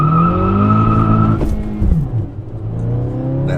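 A 2023 Acura Integra accelerates hard from a standstill in a 0-60 run, its engine revving loud and close, then dropping briefly at a gear change before climbing again.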